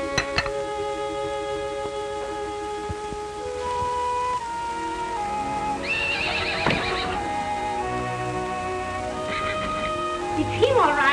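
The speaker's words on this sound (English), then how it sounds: "It's your horse, standing out there as pretty as can be." A stallion whinnies loudly twice, shrill and shaking, over a music backdrop with faint hoof clops in a 1950 Western film, the second neigh near the end.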